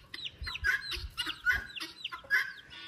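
A chicken on a small farm clucks in a quick series of short, close calls, several in a row at an uneven rhythm over a quiet background.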